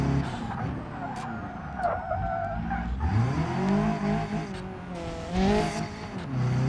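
A car drifting in the BeamNG driving game, with tires squealing in long rising and falling wails over a revving engine, loud and close, with no talk.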